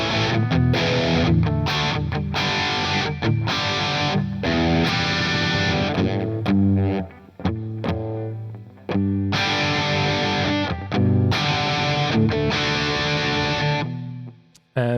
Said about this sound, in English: all of these combined together give us the final result, which is really this 80s classic Marshall sound